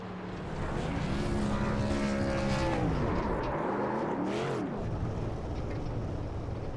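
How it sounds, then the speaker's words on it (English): A race truck in an iRacing simulation at Kansas Speedway revs its engine in sweeping rises and falls during burnouts, loud and continuous with a gritty roar. "park it right there, or probably do a couple more burnouts there"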